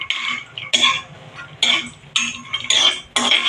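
Dry fruits are roasted in a pan, heard as a series of sharp clinking and scraping strokes of a utensil against metal, irregular and close, with quiet gaps between bursts.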